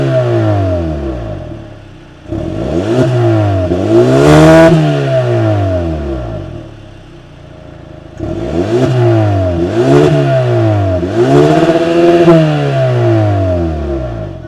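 A 2026 Hyundai Sonata N-Line's 2.5-liter turbocharged four-cylinder revved in two bursts, each a series of sharp climbs and falls in pitch, loud and close with a brief lull between the sets.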